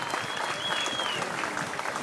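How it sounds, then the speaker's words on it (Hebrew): Audience applause at a horse-riding show, a steady dense wash of clapping from a crowd, with a faint voice over it. "מחיאות כפיים."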